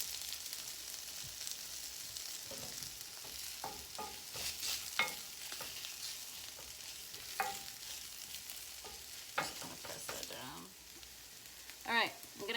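Breakfast hash browning in a splash of oil in a pan, a faint steady sizzle with scattered stirring scrapes and clicks across the stretch, no one speaking.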